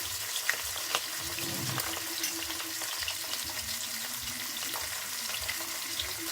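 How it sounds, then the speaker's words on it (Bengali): Fish head and tail pieces frying in hot oil, with a steady, close sizzle and scattered sharp crackles and pops throughout. "সবার প্রথমে না আমি এই মাছের লেজা আর মুড়োটাকে ভেজে নেবো"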